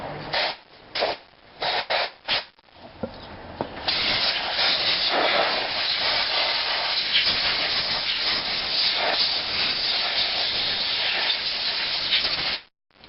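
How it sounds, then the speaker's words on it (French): Compressed-air blow gun blasting engine half crankcases clean, a few short hissing bursts followed by a long continuous loud rushing hiss, close by with no talking. "Et c'est parti pour la soufflette."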